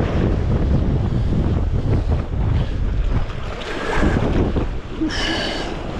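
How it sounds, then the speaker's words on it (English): Strong, cold wind buffets a fishing boat at sea, a loud, constant roaring rush with gusty surges and waves churning underneath, close to the microphone throughout and briefly joined by a faint high tone near the end. "And the wind is pumping."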